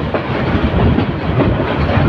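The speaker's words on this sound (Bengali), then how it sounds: "ট্রেন ছুটে চলছে দ্রুতগতিতে" A train rushes past at speed in Dhaka, near Kuril Bishwa Road, a loud, steady roar of wheels rattling on the rails, with no voices.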